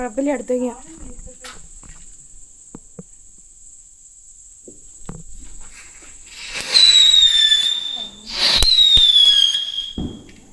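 Two sharp firecracker bangs go off close by during Vishu eve celebrations, each followed by a shrill whistling crackle, with a steady high whine and faint voices in the background.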